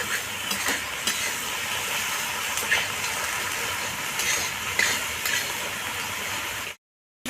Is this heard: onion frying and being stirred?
yes